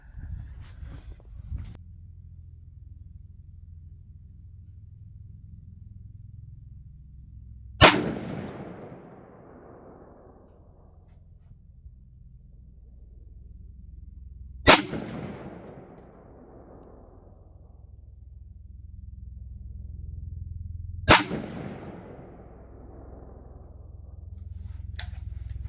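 Three loud, sharp 5.56 rifle shots with AAC 77 grain ammunition crack outdoors several seconds apart, fired from a front bag through a mil-spec trigger, each followed by a short decaying echo over a light breeze.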